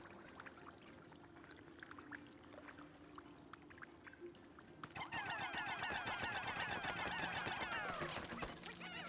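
Water bubbles popping in the Pikmin 4 video game, a quiet patch of soft, scattered blips that gives way halfway through to a louder, busy burst of bubbling and gurgling pops that keeps going before easing off.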